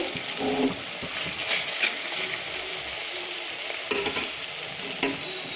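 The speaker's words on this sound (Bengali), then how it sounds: "এটা ভেজে নিতে হবে তো বন্ধুরা আদা রসুনের কাঁচা গন্ধটা চলে গিয়েছে" Ginger and garlic fry in oil in a pan for a kachki fish curry, a continuous soft sizzle broken by a few scraping stirs of a spoon.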